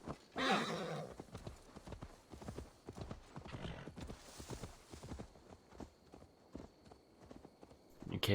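Horse hooves in Assassin's Creed Valhalla, a quiet, steady clip-clop of walking steps running throughout, with a brief snort or whinny near the start.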